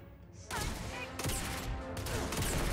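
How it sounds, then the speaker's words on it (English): Shotgun fire in the video game Starfield: a run of loud, sharp blasts in close succession with some combat noise between them, and a voice murmuring faintly underneath. "Oh, it's a shotgun."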